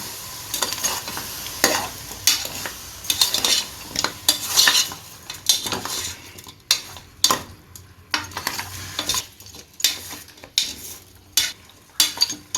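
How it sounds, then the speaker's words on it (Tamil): Beef being stirred in a pressure cooker with turmeric, salt and ginger-garlic paste: repeated scraping and clinking strokes of a spoon against the metal pot with light sizzling, close and steady, with no talking. "எல்லாத்தையும் சேர்த்து நல்லா மிக்ஸ் பண்ணி விட்டுருவோம்"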